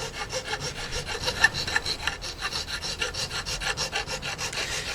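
A file rasps back and forth, beveling the freshly cut ragged edge of a part for a threaded bolt and leg leveller, in quick, regular close strokes at an even rhythm throughout, with no voices.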